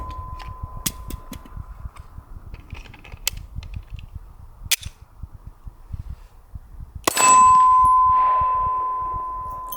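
A pistol magazine is released from a Glock with its push button and drops free: a run of light clicks and handling taps, then a sharp metallic clack followed by a ringing tone that slowly fades.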